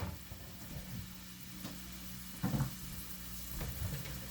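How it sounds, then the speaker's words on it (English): Onions sizzle steadily in a hot pan, a soft continuous crackle with a few brief louder bumps, no talking. "You can hear it sizzling."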